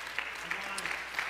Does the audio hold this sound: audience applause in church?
yes